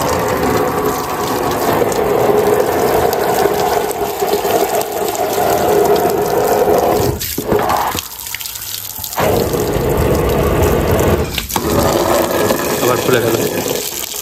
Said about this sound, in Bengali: এরপর আস্তে আস্তে জলের ফোয়ারা দিতে হবে।